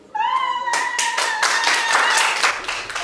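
Young girls clap together in a burst of applause that starts suddenly and keeps up a quick, uneven patter, with a high sustained voice-like tone at the start and under the clapping.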